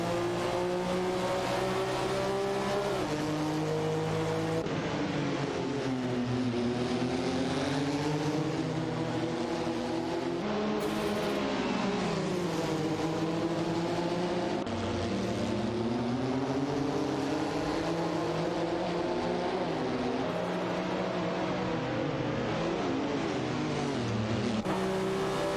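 Several engines whine in an AI-driven racing video game, overlapping pitch sweeps rising and falling steadily as cars jostle for position in the midfield, loud and continuous with no talk.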